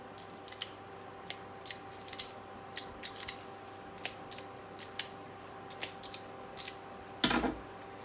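Wire strippers snip and pull at car rear light wiring for a Ford ST150 light conversion, producing a scattered series of small close clicks and snips over a faint hum, ending with a louder rustle.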